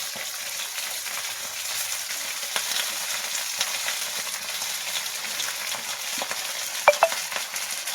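Cabbage with tomato and green chilli fries in a pan, a steady hissing sizzle with light scraping stirs and a brief clatter near the end.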